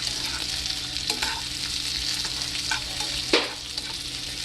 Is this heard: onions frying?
yes